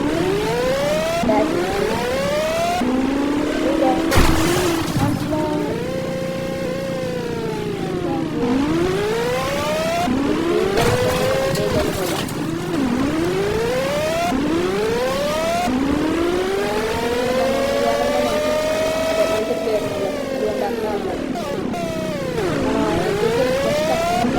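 ZX100 motorbike engine in the mobile game Indian Bike Driving 3D, whining up and down in repeated rising and falling revs like a siren, loud and continuous with no talk.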